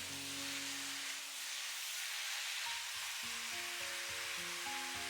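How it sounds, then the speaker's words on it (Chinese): Chicken stir-fried in a wok after a thin cornstarch-and-water slurry is poured in, giving a soft, steady sizzling hiss throughout with a low background hum, fairly quiet and with no voices. "淋入提前調好的水澱粉，勾點薄芡，快速的翻炒均勻，炒出鍋氣"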